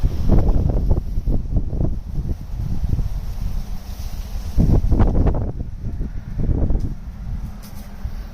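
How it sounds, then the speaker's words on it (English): A gust of wind buffets the microphone outdoors, loud rumbling bursts rising and falling irregularly, with strongest surges near the start and middle and no voices. "now I'm just getting a gust of wind here in front of me"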